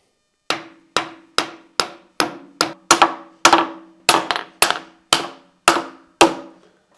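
A heavy steel axle shaft hammers a mushroomed hydraulic cylinder pin out of a backhoe stick, about a dozen sharp metallic strikes in a steady, close rhythm with ringing decays between them.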